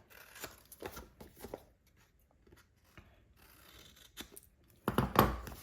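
Scissors snip along the edge of paper in a stamping and papercraft project, a few close, crisp cuts in short bursts with pauses between them and a louder burst of cutting near the end.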